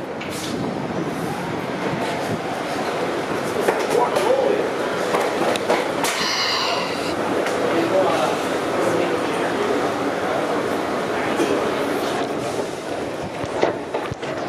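A Toronto subway train rumbles and clatters through Finch station, a steady loud wash of rail noise with a brief squeal and hiss midway, while people talk faintly nearby.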